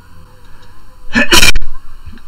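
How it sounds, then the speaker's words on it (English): A single loud, close sneeze bursts out with a sharp intake and explosive release, set against faint game engine noise from F1 2006. "Don't sneeze while you're at a chicane."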